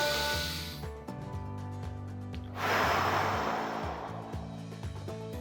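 Breathing exercise for respiratory recovery: a breath drawn in, then a strong breathy exhale pushed out through the mouth, heard up close over soft steady background music.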